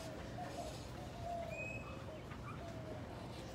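Birds call in an indoor zoo aviary building housing 24 species and 67 birds, with a few faint whistles and coos drifting over a steady hum of background noise, no clear voices.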